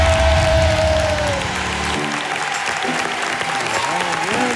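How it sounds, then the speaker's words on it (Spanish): An audience applauds after a singer's performance on an Andalusian TV talent show, a dense sustained clapping that stays loud throughout with a little cheering mixed in. "de los mejores aplausos que se han hecho aquí desde que empezó"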